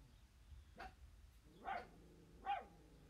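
A dog barks three times at a moderate distance, single sharp barks spaced about a second apart against a quiet indoor background.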